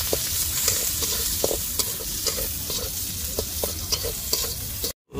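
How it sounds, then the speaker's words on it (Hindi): Chopped onions frying in hot oil in a pan at a roadside food stall, a loud steady sizzle with scraping stir strokes throughout, close up and with no talking. "यहाँ पे ऑयल हमारा गर्म हो चुका है, अब इसमें प्याज ऐड किया जा रहा है"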